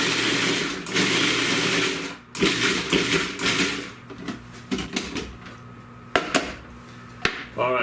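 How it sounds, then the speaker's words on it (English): A food processor pulses pineapple into a coarse chop in several short motor bursts separated by pauses, the blade whirring against chunky fruit, with clicks and kitchen clatter between pulses. "So first, let's process our pineapple. Basically what this is kind of like a coarse chop. So we're just going to pulse it a few times."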